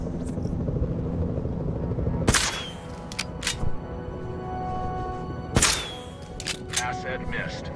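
A helicopter in the video game Jurassic World Evolution 2 hums as a steady rotor drone, broken by a few sharp cracking tranquilizer shots.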